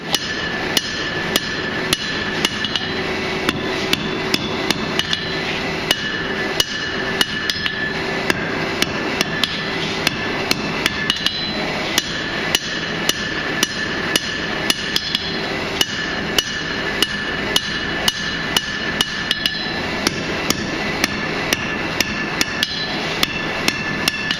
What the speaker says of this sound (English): I'm just kind of going to hit with my hammer face here and thin this section down